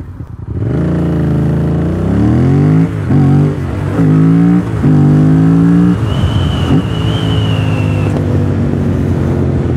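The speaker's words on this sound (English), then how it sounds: "This exhaust sounds amazing." A Yamaha FZ07 motorcycle fitted with a full exhaust is ridden on the road, loud and close, revving up through several gears with sharp shifts between rising pulls, then settling into a steadier cruise.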